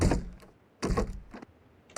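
Three heavy thuds from a door being broken down in the video game PUBG Mobile, each a blunt impact with a short rattle, spaced about a second apart and fairly quiet.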